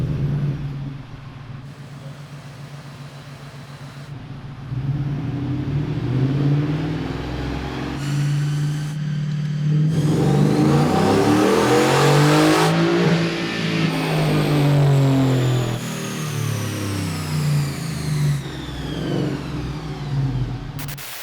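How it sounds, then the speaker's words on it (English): A Gen 3 Coyote V8 in a Ford F-150 running on E85 revs hard on a dyno pull, engine note rising and falling through sweeping harmonics, loud and continuous throughout with no talking. "we're gonna have to do a few pulls, figure out which pull is gonna net us the most power and torque"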